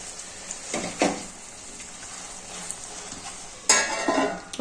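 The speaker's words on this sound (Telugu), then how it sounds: "కొంచెం ఇట్లా స్మాష్ చేసుకుంటా కలపండి" Curry gravy being stirred and mashed in a pan over a low simmering sizzle, with a few distinct scraping strokes spaced apart and a louder stirring burst toward the end, close by.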